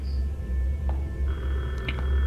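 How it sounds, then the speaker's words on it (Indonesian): A telephone rings faintly in the Detention horror video game, set in a school, sounding as short electronic trills over a heavy low ambient drone, with no speech. "Ah, di mana itu bunyi telepon?"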